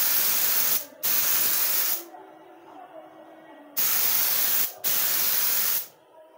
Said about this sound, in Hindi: अभी गन लोड हो गया, चलो अभी इसको स्प्रे करते हैं। ऐसा है, अभी इसको हम क्लियर अप्लाई करते हैं